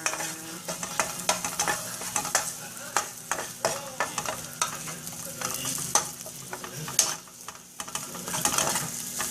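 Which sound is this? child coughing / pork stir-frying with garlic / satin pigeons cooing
pork stir-frying with garlic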